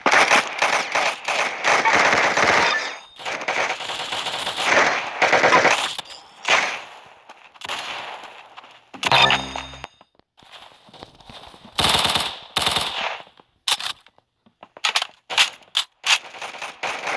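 Rapid bursts of video game gunfire from Roblox Arsenal rattle in dense automatic volleys and single cracks, loud and close, with uneven gaps and sharp stops throughout.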